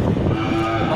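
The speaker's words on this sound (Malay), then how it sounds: "Ini juga terlihat banyak jenis sapi Aceh." Aceh cattle in a barn give a deep, drawn-out moo that is close and fairly loud, with a faint murmur of other animals and barn noise around it.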